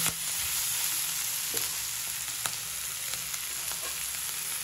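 Chicken chilli with capsicum sizzles steadily in a pan over a gas flame turned low as sauce goes in, a close, even hiss dotted with a few soft clicks and no voices.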